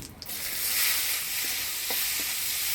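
Chopped onion dropped into hot oil tempered with whole cumin and bay leaf, an abrupt loud sizzle that settles into a steady close hiss with a few light stirring clicks.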